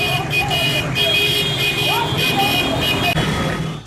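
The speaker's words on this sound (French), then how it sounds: "Au son des sifflets et klaxons," Car horns toot and whistles shrill at a street political rally, the sounds layered over traffic and crowd noise, with a voice talking over them.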